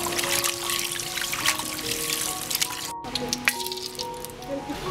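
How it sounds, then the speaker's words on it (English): Raw prawns are washed with turmeric powder, giving wet squishing and sloshing close up, with small clinks and trickles against a bowl, plus a short break midway. "Turmeric powder to wash the prawns."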